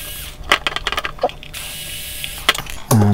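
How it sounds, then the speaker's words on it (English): Screwdriver turning screws to take apart a small synthesizer case, a series of short close clicks and ratcheting ticks in quick bursts with brief pauses, then a louder handling thump at the end. "I've just got a screwdriver here, which will allow me to disassemble it"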